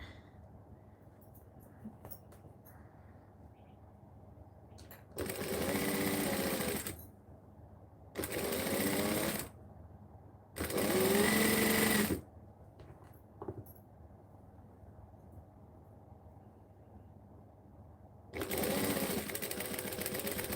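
A home sewing machine stitches in four short rapid bursts of one to two seconds each, separated by quiet gaps with faint room noise, heard close and fairly soft.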